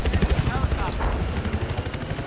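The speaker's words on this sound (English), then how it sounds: "Helicopter inbound." Helicopter in the Battlefield 4 video game, a throbbing rotor chop pulsing continuously and fairly loud, with other game noise mixed in.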